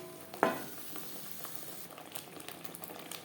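Spice paste for a pomfret fish kalia is stirred and fried in a pan, giving a faint, low sizzle with a single soft clink early on and quiet stirring throughout.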